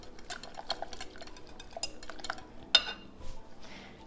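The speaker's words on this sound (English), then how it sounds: "Periodically stir this to avoid that skin." Spoon stirring a thickening raw milk fudgsicle mixture in a pot, with scattered clinks and scrapes of metal against the pot at an uneven rhythm, close and fairly quiet, one sharper clink near the middle.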